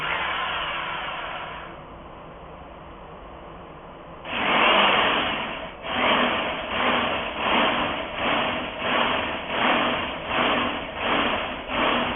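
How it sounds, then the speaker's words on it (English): An electric drill enlarging a hole whirs steadily, then runs in repeated surging bursts, rising and falling in a regular rhythm, close and fairly loud. "This is the drill that I will use to make the hole bigger."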